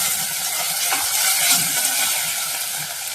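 Ginger-garlic paste sautéing in a pan gives a steady, moderately loud sizzle with faint stirring scrapes, close by and with no voices.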